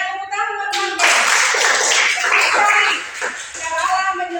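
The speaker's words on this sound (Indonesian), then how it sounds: "Ya, tepuk tangan teman-teman." Children clap their hands together in a classroom lesson, a dense burst of quick slaps lasting a few seconds over steady background noise, with voices present.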